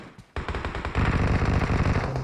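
Automatic gunfire from a battle royale shooter, an M416-style rifle, erupts after a brief lull and keeps rattling in rapid, loud bursts to the end.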